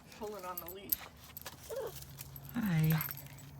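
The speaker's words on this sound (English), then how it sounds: "What's that noise? Yeah, pulling on the leash." Puppy on a jingling leash, metal tags and clips rattling faintly in short bursts while someone talks over them in a home setting.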